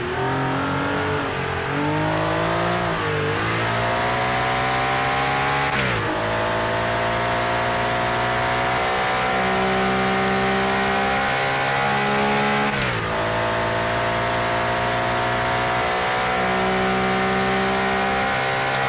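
Race car engines, including a Ford, a Porsche and a C3, roar continuously in a racing video game, revving up and down through gear changes, loud and close with no pauses, a high-pitched motor drone throughout.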